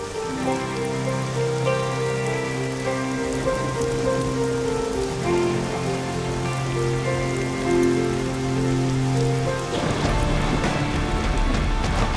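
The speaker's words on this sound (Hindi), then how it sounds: "बारिश आने वाली है" Steady rain patters on a surface, mixed with sustained tonal sounds, then a louder wash of rain swells near the end.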